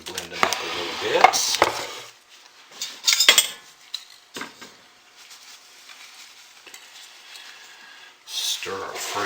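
Ingredients for a batter being blended in a bowl, with scraping and tapping of a utensil against the bowl in bursts, close up, dropping to quiet stretches between strokes.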